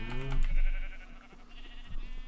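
Minecraft sheep bleat in a cluster of repeated short calls, close and clear over a low background hum, with no talk during the bleats.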